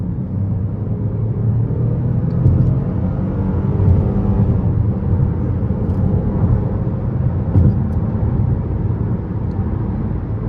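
A 2012 Buick LaCrosse V6 accelerates hard on an interstate, heard from inside as a steady low engine and road rumble that swells gently over ten seconds.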